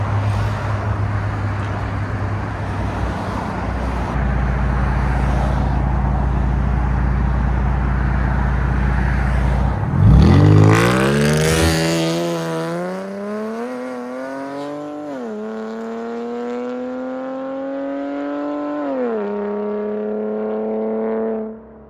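2015 Dodge Charger SXT with a 3.6L V6 and true dual exhaust with an H pipe idles with a steady low rumble, then revs hard, the engine note rising and sweeping through the gears, loud and close.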